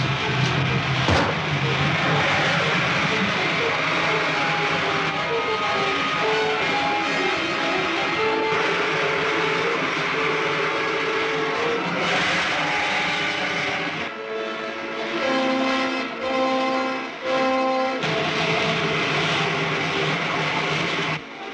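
Rocket ship jets firing in a 1952 sci-fi serial produce a loud, continuous engine roar that drones steadily from start to finish, with no talk over it.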